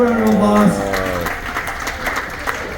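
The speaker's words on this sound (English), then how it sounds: "Let's give her a round of applause." Applause from a studio audience for a game show contestant aboard a cruise ship, rising after a host's sung or sustained voice fades out; a brief patch of moderate clapping that stays fairly even and close.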